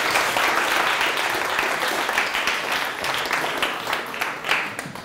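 Audience applauding a juggler during a mathematics lecture on juggling, brisk crowded clapping that stays strong and tapers slightly toward the end.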